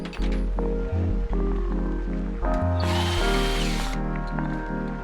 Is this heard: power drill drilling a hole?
yes